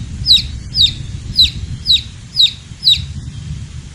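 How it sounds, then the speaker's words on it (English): A mama bird swooping in to land beside her nest, heard as six quick, high chirping calls repeated in an even rhythm over a low rumbling background, with no talking. "A beautiful mama bird flew in and landed beside the nest."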